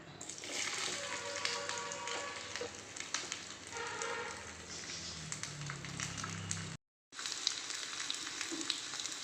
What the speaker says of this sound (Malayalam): തേങ്ങാക്കൊത്ത് ഇടുന്നുണ്ട്.